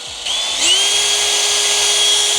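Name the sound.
power drill running at full power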